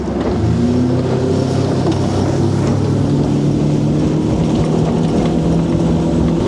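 Boat powered by a Mercury Pro XS 115 outboard turning a 19-pitch Laser 2 propeller, accelerating up to full speed untrimmed: steady loud engine drone with rushing water and wind noise, continuous throughout.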